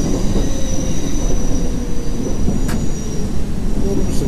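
Subway train in the World of Subways video game rumbling along the track with wheel squeal and faint clickety-clack, a loud steady run with a brief sharp screech partway through.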